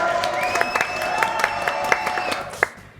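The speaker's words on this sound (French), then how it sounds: "donc on va l'applaudir" A short burst of television studio audience applause: scattered claps over a crowd murmur, with a brief whistle-like tone sustained through most of it, tapering off.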